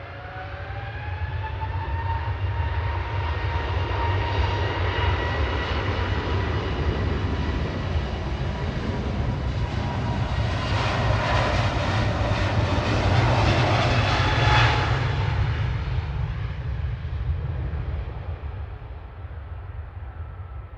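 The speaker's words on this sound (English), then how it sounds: "Turkish 1996 to Istanbul, TCLPZ A321 Neo." A Turkish Airlines Airbus A321neo jet departs for Istanbul, its engines roaring loudly and steadily with a broad rumble and rising whine that swells toward the middle and eases off at the end.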